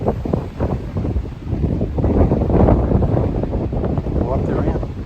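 Strong wind on the Appalachian Trail buffets the microphone in loud, continuous low roaring gusts, with a voice speaking faintly beneath it.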